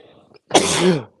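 A single sharp human sneeze, loud and close, bursting out after a brief quiet murmur and lasting about half a second.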